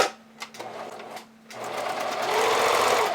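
A sewing machine runs a multi-step zigzag stitch on bra band elastic, starting with short, broken bursts before settling into a steady, continuous whir that builds slightly louder toward the end.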